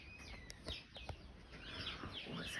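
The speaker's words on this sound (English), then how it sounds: "No, that's a sparrow." Sparrows at a garden feeder, quick faint high chirps and twitters repeating through the scene over soft background rustling, no speech.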